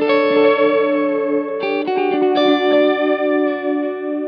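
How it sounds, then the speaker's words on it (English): A clean electric guitar picks a few notes and chords through a Strymon Timeline delay with modulation speed turned up, tone swirling with fast modulation and trailing delay repeats, loud and close, no talking. "Turn up the speed so we can hear the mod more."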